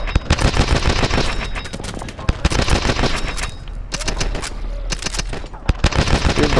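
Rapid bursts of automatic gunfire from Call of Duty Advanced Warfare, loud and dense, with repeated volleys and sharp individual shots stacking up over several seconds of game combat.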